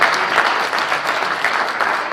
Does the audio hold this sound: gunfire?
no